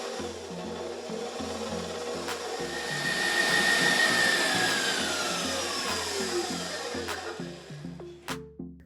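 A kitchen mixer creams butter and a third cup of sugar for homemade crescent roll dough, giving a steady, fairly loud motor whir that runs without pause for about nine seconds, with no talking.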